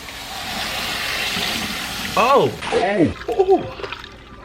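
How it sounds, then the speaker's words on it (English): Warm water runs steadily from a salon rinse hose while hair is being rinsed, a soft continuous stream that gets broken up by someone talking over it partway through. "Now, this water is gonna get very warm."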